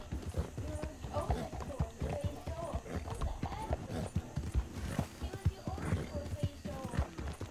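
Steady clip-clop of horse hooves trotting at an even rhythm, close and clear, with a brief whinny mixed in, from the video game Red Dead Redemption 2.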